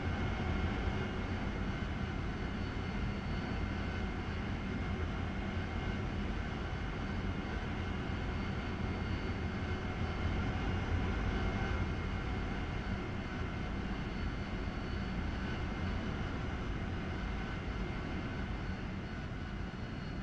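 A Harrier jet in a flight-sim game comes in to land with a steady, muffled engine drone that holds at the same level throughout, dulled at the top end.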